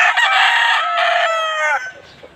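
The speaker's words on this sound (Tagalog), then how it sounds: "Ito ang mga manok." A rooster lets out one loud, close crow that rises, holds and trails off among farm chickens, with no talking over it.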